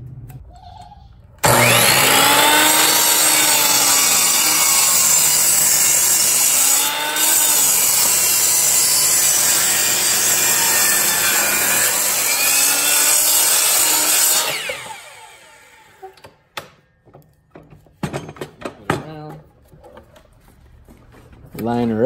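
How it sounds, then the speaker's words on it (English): A power miter saw whines at full speed as it cuts wooden supports, the loud, close motor tone bogging slightly as the blade bites, then spins down into clicks, clatter and a voice. "we are ready for it on the miter saw. So let's cut a couple of these supports here."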